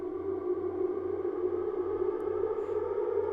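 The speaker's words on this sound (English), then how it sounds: "And there you have your classic ocarina style riser." An ocarina-style synth riser built with Discord granular pitch shifting and a fully wet Valhalla reverb sustains as a soft, hollow, flute-like tone over a gently pulsing low hum, heard alone without speech.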